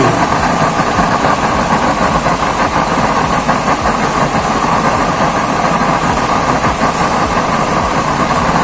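A used-oil kiln burner nozzle fires hard, a loud, unbroken roaring rumble with a fluttering combustion texture that holds steady throughout.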